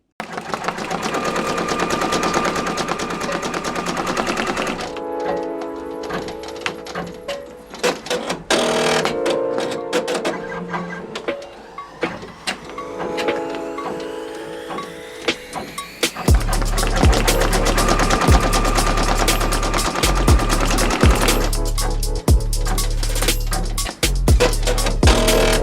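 Brother BabyLock Alliance embroidery machine stitching on a cap hoop, a loud rapid mechanical chatter that runs steadily, pauses and shifts, then resumes with a heavier, denser rhythm up close.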